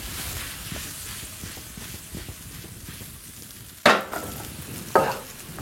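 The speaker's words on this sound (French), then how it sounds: "On verse dessus, voilà, sur la poêle et on remue." Flambéed apples, with the alcohol burned off, are stirred in a frying pan, giving a steady soft sizzle broken by scraping strokes and two sharp metallic clatters near the end, with no talking.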